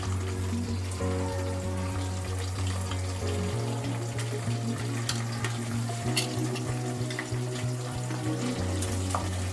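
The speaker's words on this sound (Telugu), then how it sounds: "ఇదంతా ఫ్రై చేస్తాం" Tomato, green chili, mint and coriander frying together in a pan, a steady close sizzle with scraping stirs under a constant low background hum.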